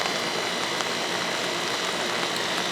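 Rain falls steadily outside near a backyard shelter for a fig tree, an even, unbroken hiss of drops on surfaces with no talking.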